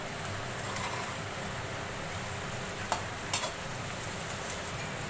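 Tomatoes and chilies frying with browned onions for stuffed karela with keema: a steady, close sizzle with a few light stirring clicks and scrapes near the middle, no voices.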